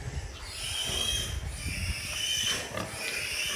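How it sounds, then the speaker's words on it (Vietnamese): Pigs in a sow pen on a pig farm raising breeding sows and piglets, a steady mix of grunts and squeals from several animals nearby, with a brief high squeal rising over the general barn noise. "Con này heo con rất là nhiều luôn. Chuồng nào cũng vậy."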